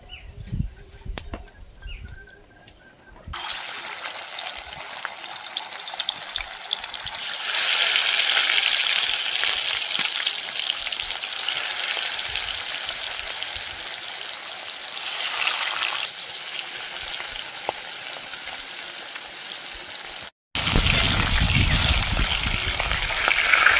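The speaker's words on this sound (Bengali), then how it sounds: "এবার মাছগুলো ভেজে নেব।" Pieces of boal fish fry in hot oil with a loud, steady hiss that swells after a few seconds, cuts off briefly near the end, then resumes strongly.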